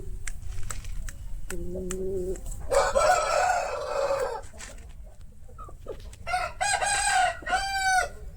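Aseel roosters crow several times in a yard, a shorter call early, then longer ringing crows, moderately near over a low background murmur and occasional clucks.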